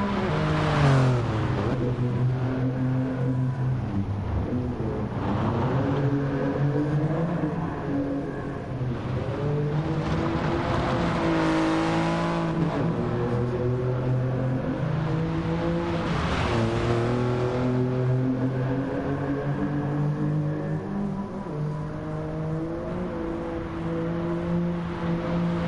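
A Toyota Yaris GR drives hard in the Gran Turismo GT Sport video game, its engine note loud and continuous, climbing and dropping repeatedly through revs and shifts, alone without voices.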